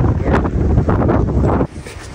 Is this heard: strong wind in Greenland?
yes